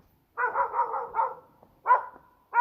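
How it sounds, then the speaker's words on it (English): A dog gives a rapid burst of several aggressive barks, then a short pause and two more sharp barks, close and loud against a quiet background. "No, aggressive barking. Stop that."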